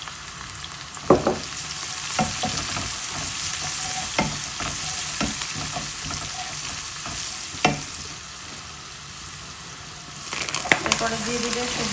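Vegetables with turmeric frying in a pan while being stirred, a steady sizzle with scraping spatula strokes throughout and some louder stirring near the end, with faint background voices.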